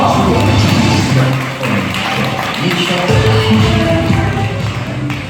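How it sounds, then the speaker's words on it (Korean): Guests clap at a Korean first-birthday party, loud and close, a steady patter of hands with crowd murmur and taps mixed in. "아빠한테도 박수 한 번씩만 부탁드릴게요"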